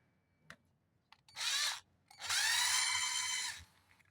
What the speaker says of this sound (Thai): แต่บางที เราเจาะ PVC ที่มันไม่ได้แข็งอะไรเลย